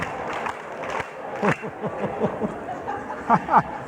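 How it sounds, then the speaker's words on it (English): A conference audience at Michigan Ross answers with scattered group claps, several loose bursts of hand-claps in a room, uneven and not tightly in unison, with faint murmuring under them. "If you can hear me, clap 4 times."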